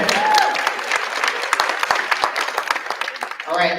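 A banquet audience applauds with dense, sustained clapping that fills the room, tapering slightly toward the end as a voice begins to speak.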